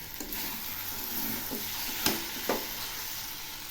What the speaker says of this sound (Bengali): এবার আবার একটু নেড়ে দিচ্ছি।